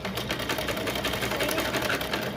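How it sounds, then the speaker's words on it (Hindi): A sewing machine runs steadily, stitching piping around the round neckline of a baby frock made from waste cloth, a continuous close-up mechanical hum without pauses. "इसके ऊपर भी हम इसी तरीके से सिलाई लगाते जाएंगे"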